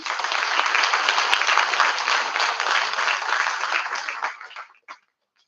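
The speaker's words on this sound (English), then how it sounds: "A big round of applause, please." Applause fills a conference hall as a guest is called forward to felicitate Dr. Parag Karkar, a dense, steady round of clapping from the audience that fades and stops near the end.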